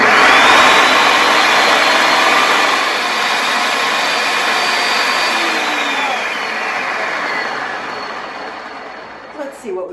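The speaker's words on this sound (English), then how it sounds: "And now we're going to puree this." A blender purees a fava bean falafel mixture, producing a loud, steady motor whir that runs almost unbroken for the whole stretch, eases slightly near the end, and stops briefly amid faint clatter.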